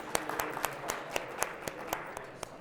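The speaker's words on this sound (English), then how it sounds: "And everybody with a small golf clap," Audience members give a small golf clap at a keynote session, about a dozen soft, evenly spaced claps heard at a distance with no one talking.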